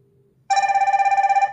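Incoming-call ringtone from a Fire-Boltt Phoenix Pro smartwatch: after a near-silent moment, a loud, rapidly pulsing electronic trill starts abruptly and repeats steadily, heard alone.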